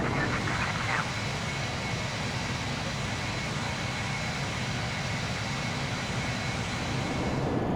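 A Delta Boeing 757 climbs out of Phoenix in Microsoft Flight Simulator X, with a steady, loud engine drone and rumble throughout and a brief higher whine at the start.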